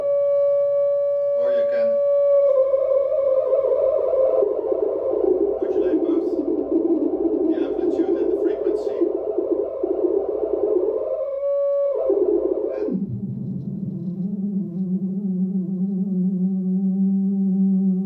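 A modulated sine wave from a synthesizer holds a steady warbling pitch with wobbling overtones, briefly dips and swoops, then drops abruptly to a lower, calmer tone. It stays loud and upfront throughout, with no talking.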